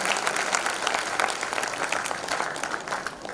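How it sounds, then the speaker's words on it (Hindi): An audience at an award presentation during a conference gives steady, dense applause for the prize winners, a sustained wash of many hands clapping at moderate volume without a break. "कृपया तालियों से उत्साहवर्धन करते रहे हमारे जो पुरस्कार विजेताओं का"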